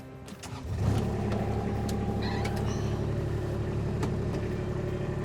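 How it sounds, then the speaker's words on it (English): A Kubota RTV-X utility vehicle drives along a track, its engine settling into a steady, loud drone after a brief rise in power near the start, with no talking over it. "Today we're going to do a drive-through of our RTV-X."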